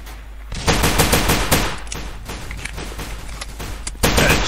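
Rapid automatic weapon fire from the Combat Reloaded 2 shooter game, a dense run of close, loud shots in bursts with brief gaps and no talking.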